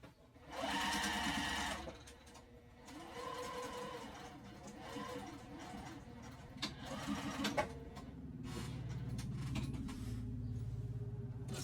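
A sewing machine stitches an apothecary tote bag close by, running in bursts of motor whir and rapid needle chatter with brief pauses and handling noises between runs, fairly quiet overall.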